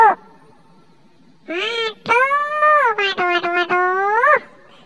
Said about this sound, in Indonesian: Kucing lagi lawan.